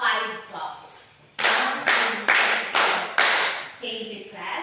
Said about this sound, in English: Give yourself a 5 claps.